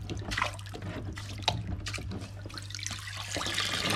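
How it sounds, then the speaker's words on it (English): Aquarium filter sponges from an Eheim 1200XL canister filter on a large discus tank are rinsed in a bucket of tank water, giving soft splashing, trickling and dripping over a steady low hum. "so we will clean these sponges in there"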